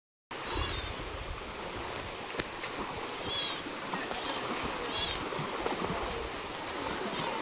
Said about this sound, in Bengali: এই কালিন্দী নদীতে প্রচণ্ড ঢেউ হচ্ছে, বাতাস হচ্ছে যত, তত ঢেউ হচ্ছে প্রচণ্ড, সমুদ্রের মতো ঢেউ